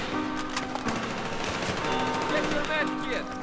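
Gunfire in Battlefield 3, rapid automatic bursts crackling through a busy battlefield mix, steady and fairly loud for a few seconds.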